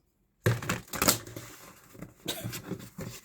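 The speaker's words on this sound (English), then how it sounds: "It was really hard to shuffle right now." Tarot cards are shuffled by hand close up, giving a series of crisp riffling clicks and flutters in uneven bursts after a moment of silence.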